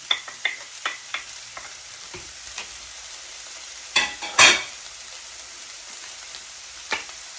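Green onion dropped into a warm pan and stirred, giving a soft sizzle with scattered clicks and scraping taps from the utensil, close and quiet.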